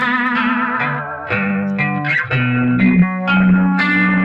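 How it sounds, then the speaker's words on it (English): Electric guitar through an Asheville Music Tools ACV-NOS phaser pedal gives a sustained, sweeping, shimmering tone. Chords ring on steadily, close and loud, with a few changes and no talking. "Here's our standard phaser sound"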